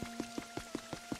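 Rain falling in the Pokopia video game, a regular patter of soft drops tapping at an even rhythm over a faint sustained tone, close and quiet, with no talk.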